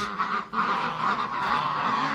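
Geese honk repeatedly in a noisy, overlapping chorus, loud and close, with no pauses in the clamor.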